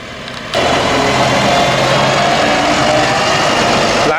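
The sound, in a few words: tractor engine running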